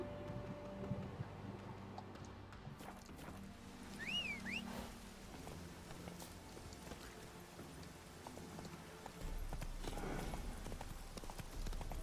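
Horse hooves clip-clop in a steady walking rhythm in The Witcher 3, fairly faint under a constant ambient bed of wind and outdoor game atmosphere, with no talking.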